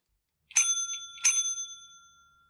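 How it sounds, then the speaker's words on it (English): Two bright bicycle bell dings, close and clear, each ringing out with a long metallic decay, used as a Twitch channel point alert sound. "Whereabouts does that bell noise actually stop?"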